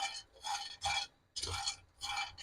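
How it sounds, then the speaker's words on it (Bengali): Nuts being stirred in a dry pan while roasting for homemade Nutella-style spread, heard as five rhythmic raspy scraping strokes, close and clear, with brief quiet gaps between them. "এখন আমি বাদামগুলা দিয়ে দিচ্ছি যে নাড়াচাড়া করে নিতে হবে নাড়া বন্ধ করা যাবে না"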